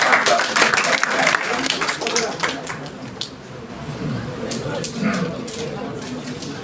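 Audience at a 2023 mushaira poetry gathering in Jammu applauding to welcome a poet. Dense clapping and crowd noise start strong, then thin out as voices carry on underneath.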